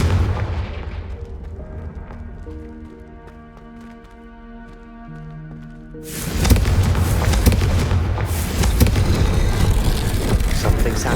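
A Confringo blasting spell erupts in Hogwarts Legacy: after a quieter stretch of sustained musical tones, a sudden loud explosive blast hits midway and gives way to a heavy, crackling rumble that carries on to the end.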